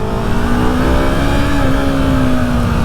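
A Yamaha MT-07 motorcycle accelerating, its engine note climbing steadily and loud, close to the rider, with no talk over it.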